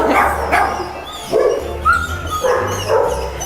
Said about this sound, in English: now we're gonna go visit the dogs, and it's gonna be really noisy